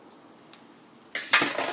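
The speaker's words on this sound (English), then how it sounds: "so I can start getting my dishes done while my last waffle's going" Dishes and cutlery knocking together at a kitchen sink while washing up, starting with a faint tap and then a loud close burst of clinks and clatter.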